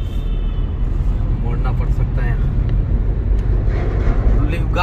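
A pickup truck runs fast along a road, a steady broad engine and road roar filling the cabin at moderate level while someone talks over it throughout.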